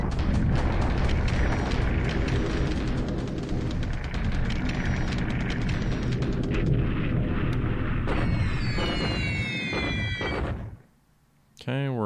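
Bombing explosions in the War in the Pacific video game during unescorted bombing raids: continuous booming and crackling blasts, loud and dense, with a voice talking over them before things quiet briefly near the end.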